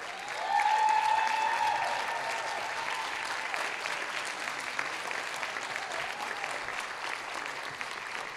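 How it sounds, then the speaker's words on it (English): Audience at the Bronx Community College 63rd commencement applauds the faculty, a steady wash of many hands clapping that swells early and then holds at a sustained, even level, with a faint tonal whistle near the start. "let's give you a round of applause."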